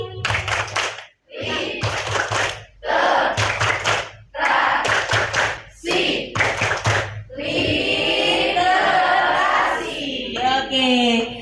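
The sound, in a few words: group rhythmic clapping, literacy clap chant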